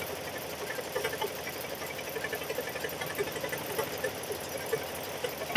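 A sewing machine runs steadily while Christmas quilts are being quilted, a continuous mid-level mechanical whir with small rhythmic flutters and a brief louder bump at the very end.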